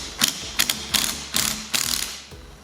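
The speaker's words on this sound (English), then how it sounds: "now we'll need to get a tool and remove that nut now" Socket ratchet with a 10mm socket turning a rusty rear wiper arm nut on a Dodge Journey, five or six quick clicking strokes in a steady rhythm, close and clear.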